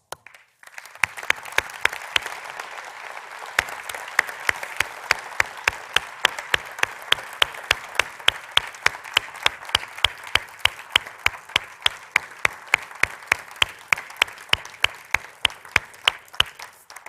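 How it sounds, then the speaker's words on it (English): A seated ceremony audience gives a sustained round of applause for the 2022 honorees at an NCAA Honors Celebration, steady dense clapping filling the whole stretch with sharp individual claps standing out, no speech over it. "please stand one more time for a round of applause"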